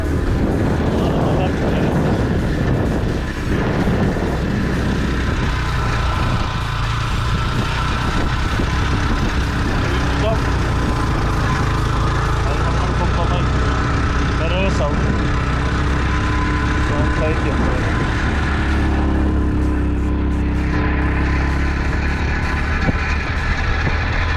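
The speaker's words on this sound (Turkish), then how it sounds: "Baya şu an normalde 2 kilometre yolu yürümemiz gerekirken şu an motorla gidiyoruz." A motorcycle rides along a road with two riders aboard, its engine droning loud and steady throughout against wind rush, with speech present at times.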